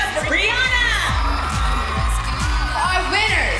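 A crowd cheers and whoops for cheerleader Brianna, a steady roar of voices over a thumping musical beat.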